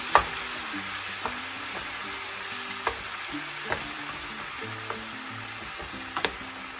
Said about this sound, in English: what we're going to do is we're going to break it up. It'll mix in. We'll start mixing it in.